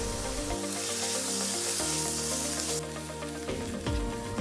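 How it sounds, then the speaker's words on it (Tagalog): Chopped onions sauté in a hot pan for an eggplant filling, a bright continuous sizzle that swells and settles, close and steady, with faint background music and no talking. "Ngayon naman ay igigisa natin ang ating filling. Unahin nating ilagay ang sibuyas."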